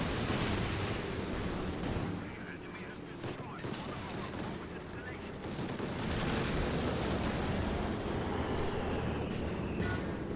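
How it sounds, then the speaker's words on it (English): Aircraft strafing gunfire in the Company of Heroes 2 battle game, a dense sustained roar of rapid shots and blasts that continues throughout the clip, with a voice commentating underneath. "Oh, it's strafing support."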